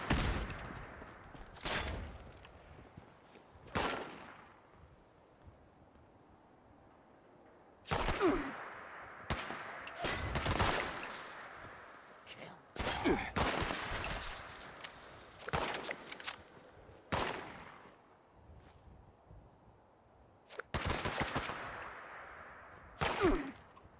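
Gunfire in the video game Fallout 76, with repeated bursts of shots spread across the stretch and quieter gaps between volleys, all heard over a faint background hum, and no talking.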